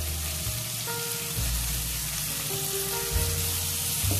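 Ingredients for moringa leaf sambar sizzle as they sauté in a pan, a steady close crackling fry with low thumps from the pan partway through, and no talk over it.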